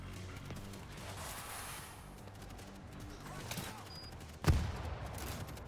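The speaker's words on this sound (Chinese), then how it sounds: "有人踩到地雷喽！" A landmine going off in World War Z, one sudden low boom cutting through a busy bed of distant gunfire and background noise, with faint voices around it.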